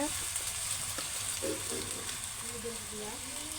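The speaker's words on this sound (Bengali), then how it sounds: "আদাটা দেওয়ার পরে নেড়ে চেড়ে নিলাম" Chopped ginger stirred and frying in a pan in a home kitchen, a soft continuous sizzle with faint scraping stirs, fairly quiet and close, with no talk.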